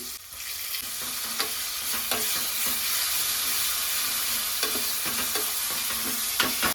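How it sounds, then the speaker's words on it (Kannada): Garlic and green chilli paste with curry leaves frying for a buttermilk saaru tempering, a loud steady hiss of hot oil broken by occasional scraping stirs and ladle taps. "ಬೆಳ್ಳುಳ್ಳಿ ಮತ್ತೆ ಮೆಣಸಿನಕಾಯಿ ಪೇಸ್ಟ್ ಹಾಕೊಂಡಂತ ನಾನು ಇದನ್ನ ಒಂದು ನಿಮಿಷದವರೆಗೂ ಫ್ರೈ ಮಾಡ್ಕೊಂಡಿದ್ದೀನಿ"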